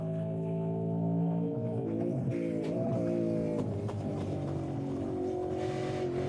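A Pepsi Max Holden Commodore race car at a Manawatu Car Club winter series round holds a steady, droning engine note that swells slightly as it runs, close and continuous, with no one talking.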